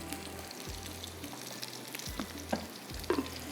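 Onions fry toward brown in a pan, a constant close sizzle with a low rumbling hum that cuts in and out, plus a couple of brief louder crackles and scrapes.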